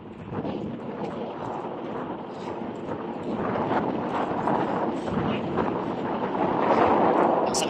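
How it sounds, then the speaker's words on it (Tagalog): Strong wind buffets the microphone in Dubai during a ride, in a continuous roar that swells toward the end, with a voice faintly underneath. "Lakas ang hangin."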